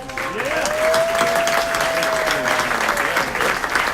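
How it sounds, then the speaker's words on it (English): Steady crowd applause fills a city council meeting room, dense continuous clapping at moderate volume with a faint tone running through it. "Big round of applause for Ward."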